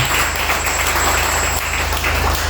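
Congregation applauding at a Pentecost mass, dense sustained clapping filling a large space, steady and loud throughout with no voice above it.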